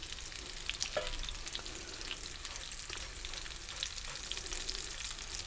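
Steady sizzling of food browning in a frying pan during holiday cooking, a continuous close crackle with a few faint utensil clicks, no talking.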